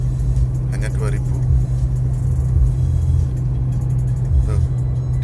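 A car cruises in fourth gear at about 2000 RPM, a steady low engine drone close inside the cabin with a constant hum, while someone talks over it.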